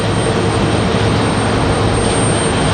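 A Frontier Airlines jet moving on the ground at Raleigh-Durham International Airport gives off a loud, unbroken engine rumble and hiss with a thin high whine, steady throughout and close by, with no voices.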